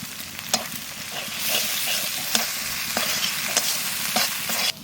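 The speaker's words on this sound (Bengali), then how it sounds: "মশলা কষানো হয়ে গেছে" Spices being stirred and sautéed in a pan for a Bengali prawn malai curry, with salt, turmeric and a little sugar added; a steady close sizzle of frying runs throughout, broken by repeated sharp scrapes of the spoon against the pan.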